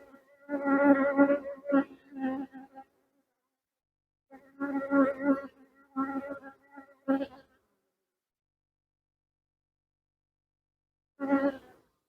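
Honeybees buzz on an open hive frame of brood where drones are emerging, in several close, intermittent bursts of droning buzz separated by stretches of near silence.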